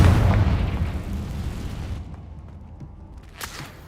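Spell explosions from Bombarda and Confringo in the Hogwarts Legacy video game: a loud, dense boom at the start that rumbles and fades over two seconds, then quieter debris crackle and a sharp burst near the end.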